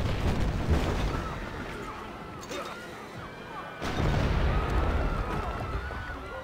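Artillery combat in Civilization V: heavy booming explosions and crashing impacts, loud and close, with a second big blast partway through and a rumbling tail fading between hits.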